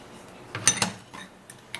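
A spoon scoops thick yogurt into a bowl, giving a couple of soft clinks and scrapes close by, followed by a few fainter taps.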